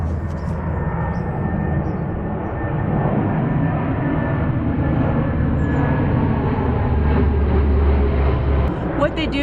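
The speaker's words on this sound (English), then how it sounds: "Unbelievable! All of these airplanes." A loud, steady roar of aircraft engines fills the air, a deep sustained rumble that swells slightly as planes doing touch-and-go landings pass overhead, with a voice speaking underneath.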